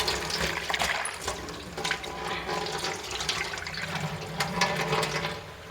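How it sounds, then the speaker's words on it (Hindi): Water pours steadily into a cooking pot of dal for a dhaba-style dal keema. A continuous close splashing rush runs for several seconds. "इसमें डाल दूँगी मैं सारी दाल और बिल्कुल थोड़ा सा पानी डाल के"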